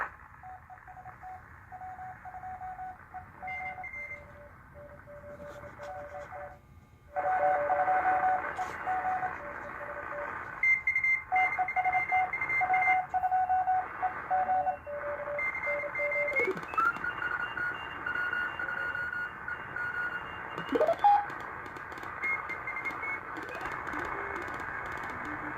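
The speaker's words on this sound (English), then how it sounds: "Let me go ahead and just scan through, starting it down around close to 7 megahertz" BITX40 ham radio receiver tuned across the 7 MHz band, giving steady static and hiss with sustained carrier tones and heterodyne whistles, a sudden jump in level partway through, and tuning sweeps and chirps near the end.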